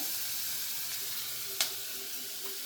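A chopped onion fries in a pan with a steady, close sizzle, a sharp clatter at one point and a softer knock near the end, with no talking.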